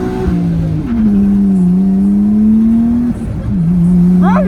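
A 1994 Nissan 240SX S14.5 swapped with an RB inline-six engine revs up and holds a steady, smooth drone close by, dipping briefly between pulls, with no talking over it.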